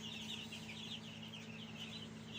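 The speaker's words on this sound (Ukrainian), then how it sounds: "Це звичайні наші курчатка, а це бройлери." Broiler chicks cheep continuously in a high, chirpy chorus over a steady low hum, the peeping rising and falling without pause.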